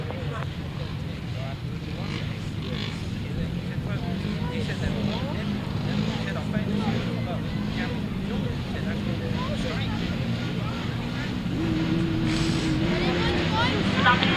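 250cc solo grasstrack motorcycles launching from the grid at a race meeting, a dense continuous engine drone that swells louder toward the end, with a commentator speaking over the bikes.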